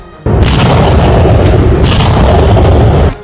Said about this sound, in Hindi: तस्वीरों में दिखा कि तुर्की की सेना ने एयर डिफेंस सिस्टम और तोपों के जरिए ये जोरदार हमला किया।